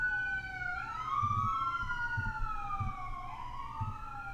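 Emergency vehicle siren passing outside, a wailing tone sweeping up and down at moderate distance over low background rumble, with no talk.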